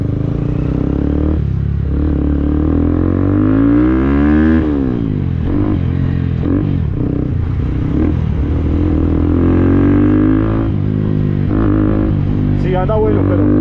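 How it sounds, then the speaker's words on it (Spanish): An NKD motorcycle fitted with a TVS Apache 160 4-valve engine revs and rides steadily, its loud engine drone rising and falling through gear changes, with someone talking over it throughout. "aquí voy la NKE con motor de Apache 164 válvulas,"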